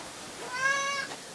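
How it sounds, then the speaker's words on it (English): A pet cat gives one drawn-out meow, clear and close, rising then falling over about half a second against a quiet room background. "apparently my cat's gonna talk to us the entire time that I'm doing this."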